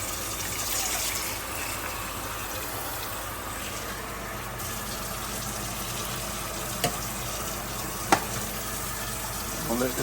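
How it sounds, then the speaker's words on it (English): Water poured into a cooking pot already holding coconut milk while making vegetable pumpkin rice in a rice cooker, a steady liquid gush with a few small clinks toward the end. "We're just gonna add some more water."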